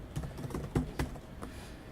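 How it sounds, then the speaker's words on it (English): A password is tapped out on a computer keyboard, a run of close, irregular key clicks with a few harder strikes in the middle, set over faint room noise. "I'm going to lock it so you can't see that I'm typing password 1."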